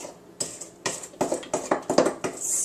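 A spoon scrapes and clinks against a bowl while chocolate cake batter is stirred by hand, giving a close, steady series of knocks and taps.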